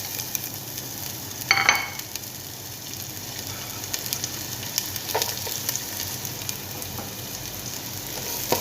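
Onion sizzling in hot oil for a chicken majboos, a steady close crackle of frying with a few brief louder spatters and stirring clinks, no talk.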